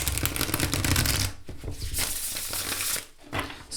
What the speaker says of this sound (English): And let me show you the river shuffling.